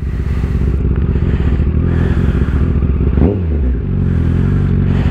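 A motorcycle rides through Sofia city traffic after work, its engine a loud, continuous rumble close by, with a brief pitch sweep as the rider shifts or passes another vehicle.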